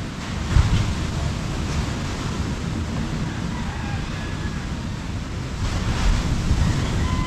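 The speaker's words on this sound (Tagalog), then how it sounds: "Ang lakas ng kalampag ng alon" Ocean waves crash and roar steadily, heavy wind buffeting the microphone throughout.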